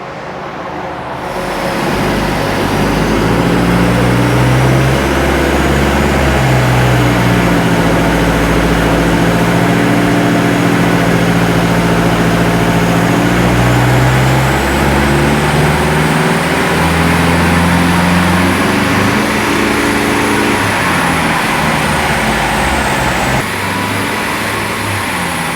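A taxi engine with 300,000 miles, under a performance test, holds steady then climbs through the revs in a long, loud, continuous run, with a rising whine, before dropping off near the end as it kicks down.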